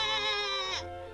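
A human voice imitates a baby sheep's bleat: one short, high, wavering "baa" that drops in pitch at the end, close and clear with no other sound.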